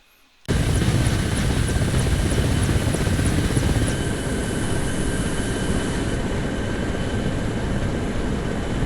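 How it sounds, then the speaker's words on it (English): A helicopter in a video game starts up abruptly and roars steadily, with rotor thumping and a high whine, loud and close throughout. "see us getting in the helicopter here to appreciate our handiwork from the air"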